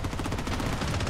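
Crimson Desert Eagle pistol shots in Blood Strike, dense rapid cracks packed closely together in a loud continuous stretch of gunfire.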